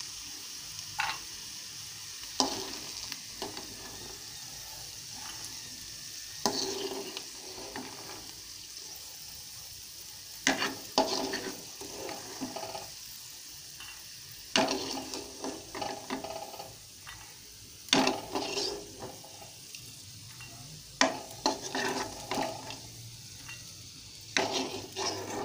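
Tomatoes fry in a pan for peanut chutney, giving a steady soft sizzle broken by repeated sharp scrapes and clatters of stirring, fairly close and with no voices.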